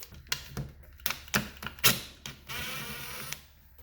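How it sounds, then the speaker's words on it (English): 15/16 socket ratchet removing the outlet fitting from a 1978-2000 Ford C-II power steering pump, with a series of close, sharp clicks and metallic knocks followed by a brief rattling rasp. "we need to remove the outlet fitting using a 15/16 socket"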